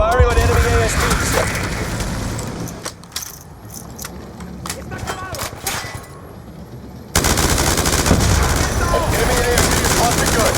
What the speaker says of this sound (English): Firing on enemy ASPs.